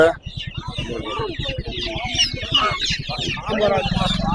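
Black chickens clucking close by in quick, repeated bursts at a market, with people talking over them throughout.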